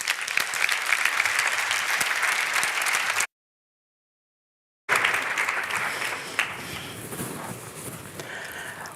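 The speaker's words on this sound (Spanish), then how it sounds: "Pido un fortísimo aplauso para Alejandra." Loud, dense applause from a crowd at a professional conference, cut by a sudden silent gap, then resuming and gradually thinning out.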